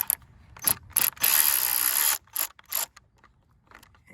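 An 8 mm ratchet loosens a car battery terminal nut in short bursts of close, crisp clicking, with a longer run of rapid ratcheting in the middle, separated by brief quiet gaps.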